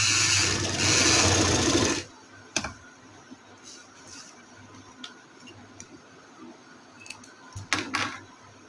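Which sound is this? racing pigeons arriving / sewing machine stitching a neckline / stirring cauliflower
sewing machine stitching a neckline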